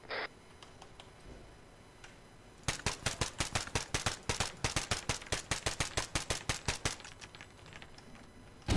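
Rapid automatic gunfire in the Arma 3 military video game, a long burst of evenly spaced sharp shots lasting several seconds after a quiet stretch, close and loud with no talk.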